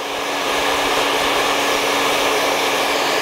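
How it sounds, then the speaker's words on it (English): A handheld hair dryer blows on the front section of short hair, a loud, steady, close-up whooshing roar with a constant motor hum throughout, no talking. "What I need to do is just re-blow dry this little front section right here to make it all go back."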